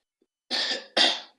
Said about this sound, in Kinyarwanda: harimo akantu k'inkorora nyine n'amagripe